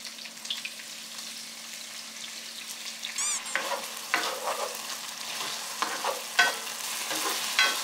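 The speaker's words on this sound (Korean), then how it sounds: "이 소스를 부어요." Sauce poured into a hot pan with green onion and minced garlic bursts into a loud sizzle that keeps crackling and hissing, with a few stirring clatters.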